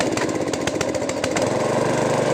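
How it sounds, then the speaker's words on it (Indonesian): A repaired Honda GX220 small petrol engine runs steadily, a loud close rattling drone with rapid firing pulses and some uneven sputters early on, heard alone. "Tes hidupkan mesinnya ya, sudah normal, jos, mantap, tidak ada masalah lagi."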